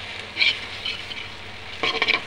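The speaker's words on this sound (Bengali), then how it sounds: "তো চলো নুডলস রান্নাটা কমপ্লিট করা যাক।" Boiled noodles are stir-fried in a pan, giving a soft sizzle punctuated by short scraping bursts of the spatula, the last cluster louder and closer.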